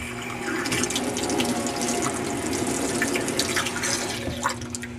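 Running water rinses loosened grime off a metal chassis, a steady close splashing gush with small sputters and drips throughout, no voices.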